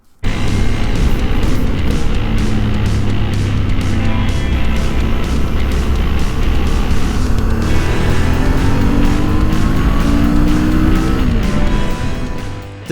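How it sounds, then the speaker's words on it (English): A 2015 Suzuki V-Strom 650 motorcycle on the move: a loud, continuous engine drone with rising pitch through the gears and wind rush throughout, close to the rider, without talk. "now it's time to ride the 2015 V Strom 650"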